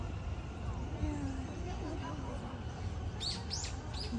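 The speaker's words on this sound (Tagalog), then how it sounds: "Yung mga ibon." Small birds chirp among sakura trees in Japan, with faint, brief tweets toward the end over a steady outdoor background of distant crowd murmur and ambient noise.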